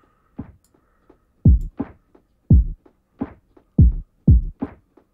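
A drum pattern under a gradually closing low-pass filter in a BandLab project: deep, thudding kick-like hits with muffled, dull tops, in a steady loop of strong and softer strokes with no talk.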